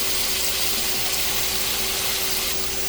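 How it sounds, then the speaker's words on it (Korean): Potato pieces sizzling in an oiled frying pan, a steady close hiss of frying that runs without a break. "기름 두른 팬에 감자를 넣고 볶아주다가"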